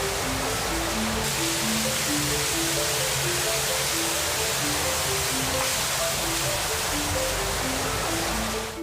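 A small stream pours and rushes steadily, a dense, continuous wash of flowing water at a farm watermill that grinds flour and animal feed, with a faint tonal hum running underneath.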